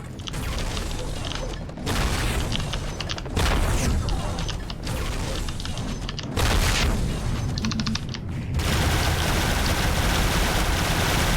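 Missiles being shot down in the video game Serious Sam Fusion, with gunfire and explosive booms in dense repeated bursts, loud and continuous throughout.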